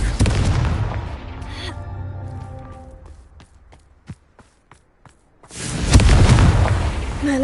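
A Confringo explosion spell bursts in the Hogwarts Legacy video game: a loud booming blast with a ringing, fading tail, several sharp cracks and pops, and then a second heavy rumbling explosion.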